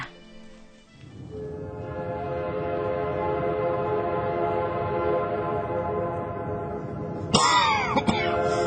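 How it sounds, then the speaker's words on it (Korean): A train rolls into a station as a radio drama effect, its low steady rumble swelling after a quiet start and holding, with a sharp horn blast near the end. "열차가 오는가벼."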